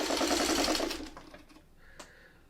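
A sewing machine stitches fabric in a fast, loud rattling burst that slows and fades within about a second, followed by quiet handling clicks.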